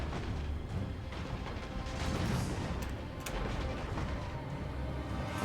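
Dwarf artillery and cannon fire from a Total War Warhammer 2 online battle, a dense, continuous rumble of booms and crashes with sharper cracks near the middle and late in the stretch, steady and loud throughout.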